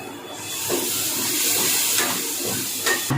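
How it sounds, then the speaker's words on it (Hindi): Lentil cooking water pours into a cooking pot in an Indian home kitchen, a steady close splashing stream that runs almost unbroken for about three seconds. "थोड़ा दाल का पानी डाल दूंगी।"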